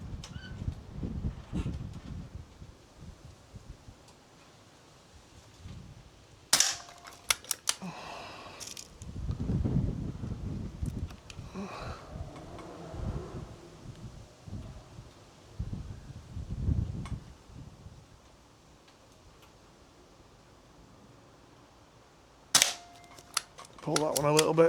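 An S400 air rifle fires at a paddle target, giving a few sharp, isolated cracks spaced well apart amid quiet handling noise and rustling.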